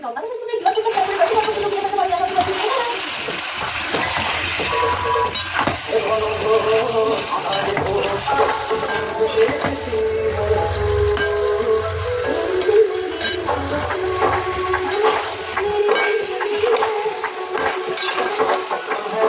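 Mutton kosha frying with ginger paste being stirred in, a continuous sizzle under steady scraping and clinks of a utensil against the pan, with a voice speaking over it at times.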